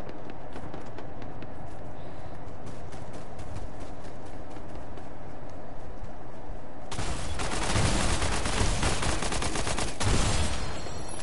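Shotgun fire in a Fortnite match comes as a loud burst of shots after a long stretch of quick, rhythmic running footsteps, the firing continuing in a dense cluster toward the end.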